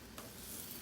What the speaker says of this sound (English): You hear a little sizzle on there.